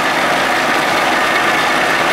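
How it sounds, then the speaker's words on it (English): A 40 hp Johnson outboard motor warming up during a thermostat test, running as a steady, loud, even drone with no talk over it. "The motor's feeling nice and warm. Getting hot, waiting for that thermostat to open up."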